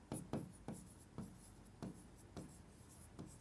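A pen writes the formula for the average during a maths lesson, giving a series of quiet, close scratchy strokes in an irregular rhythm, separated by short pauses.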